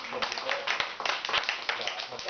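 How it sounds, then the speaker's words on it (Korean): A small group at a self-help meeting claps hands in a short burst of uneven, close claps lasting a couple of seconds, with voices mingling underneath. "우리 불쏘시개님 오셨는데 박수 한번 크게."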